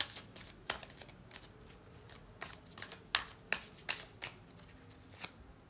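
Tarot cards drawn from a deck in a quiet room, with soft papery shuffling and a series of crisp snaps and flicks at irregular intervals.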